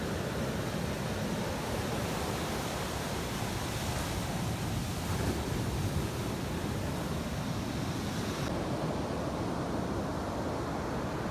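Broadband surf from ocean waves breaking on a long beach, a steady continuous wash with no voices, heard close and fairly loud throughout.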